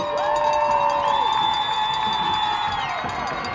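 A crowd at a high school football game between LVTI and Nashoba Valley Tech cheers steadily for graduating seniors, with whoops and whistle-like shouts riding over a continuous roar.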